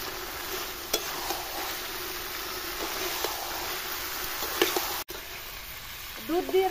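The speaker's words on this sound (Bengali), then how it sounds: "এবার আমি কাঁঠাল দিয়ে দিচ্ছি।" Jackfruit pieces hit spiced milk in a hot pan and sizzle steadily while being stirred, a dense continuous frying hiss with occasional clinks of the spoon.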